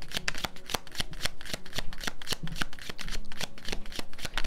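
Tarot cards are shuffled up close in quick, crisp riffling bursts that snap and flutter in a steady rapid rhythm, with no voice over them.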